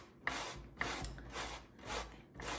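Fresh zucchini is shredded on a sharp kitchen grater in a steady series of about five rhythmic rasping strokes, close and fairly quiet, with no voices.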